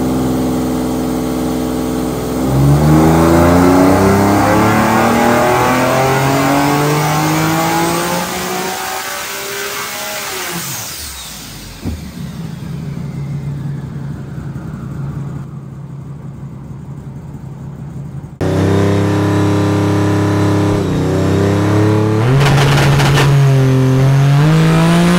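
A self-built GT-R making about 3000 hp revs hard and loud, its engine rising and falling in repeated surges. There is a brief quieter spell midway, then it roars again at close range.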